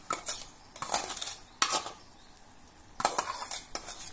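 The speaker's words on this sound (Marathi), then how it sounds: "पाण्याला उकळी आली की धुतलेला भगर घालूया" Washed barnyard millet goes into boiling water and gets stirred, with a few sharp metallic clanks and scrapes of a spoon against the pot between quieter stretches, close by.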